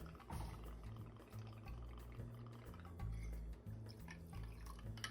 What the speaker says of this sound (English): This one we're just gonna pour over the rocks.